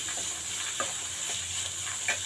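Soaked chana dal fries with onions in a pan for a coconut and chana dal curry, a soft steady sizzle broken by a few light scraping stirs of the spoon.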